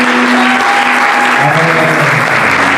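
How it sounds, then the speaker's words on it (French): Church congregation applauding and cheering during a French-language worship service, a dense, steady wash of clapping across the whole stretch with a few sustained tones riding underneath. "Est-ce que tu peux acclamer plus que ça?"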